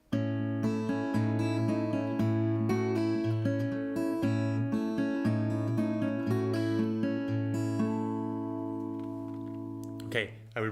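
Guitar plays a phrase from a song, with sustained low notes under a run of plucked melody that includes a pull-off, close and clear for about ten seconds before fading.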